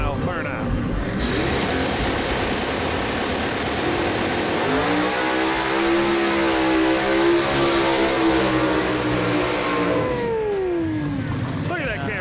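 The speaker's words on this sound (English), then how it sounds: "So let's watch a little Cajun-style burnout." A 1952 Kaiser Henry J car revs hard through a burnout, a loud, steady engine roar that climbs and holds in pitch before easing off, with tire and crowd noise around it and people talking.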